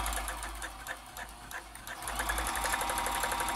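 A vintage Janome Combi DX 502 sewing machine stitches a blind stitch, its needle tapping in a quick, even rhythm over a low motor hum, close and fairly quiet, picking up slightly toward the end.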